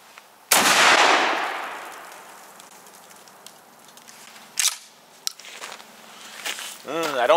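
An Akkar Churchill Shockwave fires a single slug outdoors at targets about 20 to 25 feet away, one sharp loud blast with a long decaying tail, followed by quieter clicks and handling noises.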